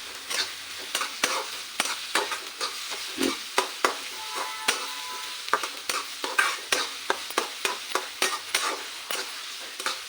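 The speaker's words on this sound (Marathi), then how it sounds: "कांदा पण आपल्याला गुलाबी रंगावर छान परतून घ्यायचं इथे मी कढीपत्त्याची पानं पण घालून घेणार आहे" Onion and curry leaves frying in oil in a kadhai, a steady sizzle with regular sharp scrapes of a spatula stirring, close and even-paced with no talking.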